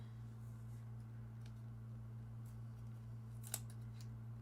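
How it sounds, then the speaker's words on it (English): Scissors snip once through a small makeup sample packet, a brief crisp cut near the end of a quiet stretch with a steady low hum underneath. "I'm gonna have to just cut this open."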